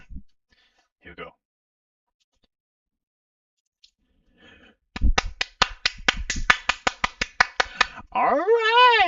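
Hands clapping near the mic in a loose run of sharp, uneven claps, testing the sound while making game sound effects, preceded by faint knocks and followed by a loud vocal whoop at the end.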